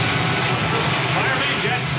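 A rocket ship's pilot jets fire as a film sound effect, a loud, dense, steady roaring rush held evenly without a break, close and continuous.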